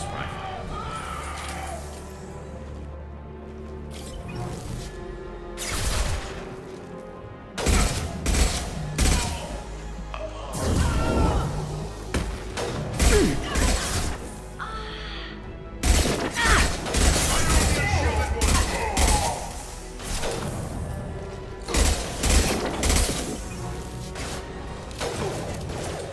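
Rapid rifle gunfire from Mass Effect 2, loud bursts and single shots cracking repeatedly over a game soundtrack, with a voice speaking between volleys.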